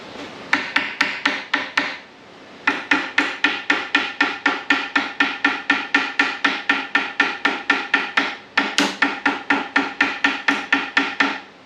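A hammer strikes metal in a fast, steady run of sharp, close blows while auxiliary lights are fitted to a Range Rover Classic overland rig, pausing briefly twice before the rhythm resumes.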